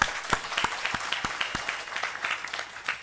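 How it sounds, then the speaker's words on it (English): A crowd claps steadily in sustained applause for a 70th birthday, dense and fairly close, with sharp individual claps standing out. "Please give him a big round of applause."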